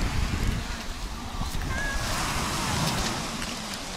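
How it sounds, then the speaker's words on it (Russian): Rough surf on a stormy sea crashes and roars continuously under gusting wind at a beach in Nikolaevka, Crimea, a broad steady wash of noise with no clear breaks. "И море штормит."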